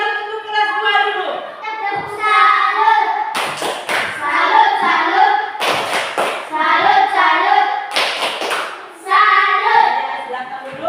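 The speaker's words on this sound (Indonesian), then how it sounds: "Tepuk salut untuk kelas 2 dulu." A primary school class joins in a 'tepuk salut' clapping chant, bursts of sharp group claps with a set rhythm coming between stretches of a teacher's voice and sung or chanted children's voices, nearby and loud.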